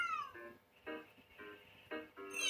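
A cat meows in the puzzle video game Find Out, a string of short, clear, high meows coming in quick bursts with brief gaps between them and no speech.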